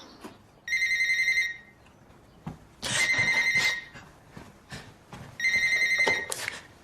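A telephone rings for a scheduled weekly call, giving three loud close trills of electronic bell ringing with short pauses between them.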